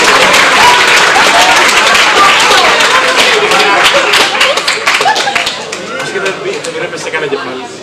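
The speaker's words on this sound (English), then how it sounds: "round of applause for our brick shakers" A lecture audience at a physics talk claps for volunteer brick shakers, dense loud applause that holds steady for several seconds and then thins out into scattered claps.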